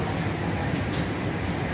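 A suburban train on the Mahachai to Wongwian Yai line pulls into a station, giving a steady, loud rumble of wheels and carriage noise with no clear breaks.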